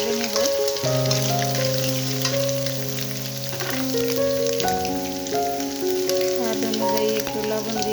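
Green chillies and grated carrot fry in a pan with a steady, close sizzle that runs the whole time beneath prominent background music.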